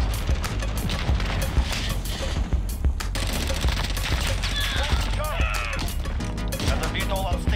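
Cluster strike explosions and steady gunfire in a military shooter game roll on without a break, dense booms and rattling shots continuing throughout, with radio-style voices talking over the battle.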